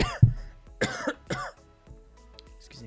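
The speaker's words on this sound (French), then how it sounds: "Excusez-moi si je tousse." Several harsh coughs from one person, a strong one at the start and two more about half a second apart, followed by softer throat sounds in a quiet indoor room with no talking.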